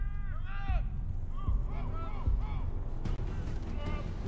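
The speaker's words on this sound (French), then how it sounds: "Des coups de feu à droite, derrière les dunes." Several sharp booms of gunfire and artillery in the video game Black Ops 6 go off at intervals, mixed with a low rumble and a voice speaking over the action.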